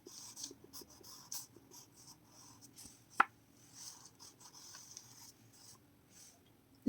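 Pencil sketching on paper while drawing a room in one-point perspective: soft, faint scratchy strokes in short bursts, with one sharper tap partway through and no speech.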